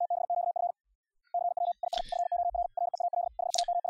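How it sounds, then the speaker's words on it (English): Steady Morse code CW beeps in a single clear tone, sent at high speed from FLdigi on Linux, bursts of quick dots and dashes separated by short pauses, with faint clicks between. "I'm going to try to talk above this Morse code"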